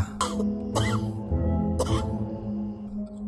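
A man coughs three times in harsh, separate bursts, with a low hum in the background between them.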